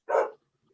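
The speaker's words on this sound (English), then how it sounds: "oh, that's my dog." A single short dog bark sounds once, close by in a quiet indoor room, followed by silence.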